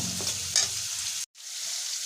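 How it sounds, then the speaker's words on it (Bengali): Vegetables sizzle in a pan with a few scraping stirs early on, a brief cutoff, then the frying hiss carries on steadily. "এক এক করে সব সবজিগুলোকে ফ্রাই করে নেব"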